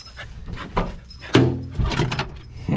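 A van door slides open with a clunk and scrape, preceded by a dog's panting and jingling sounds at close range, loud and brief with no talking.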